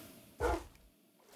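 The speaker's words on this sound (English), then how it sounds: "Oh, there's a wolf." A wolf in the Minecraft video game gives a single short bark, a close, punchy burst rising briefly above quiet game ambience.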